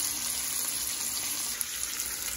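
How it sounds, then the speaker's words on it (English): Steady broadband hiss and crackle of delicate white fish fillets frying in a hot pan, continuous and fairly close, with no talking. "Look at that sizzle."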